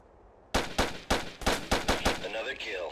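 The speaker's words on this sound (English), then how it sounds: "Fire at will. We're under fire." Gunfire in the video game Ghost Recon, a rapid run of about eight loud, evenly spaced shots, with the echoes trailing off at the end.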